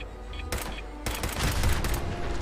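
Rapid gunfire from weapons in Fallout 4 crackles in dense bursts, several sharp volleys piling into sustained loud fusillade over a few seconds.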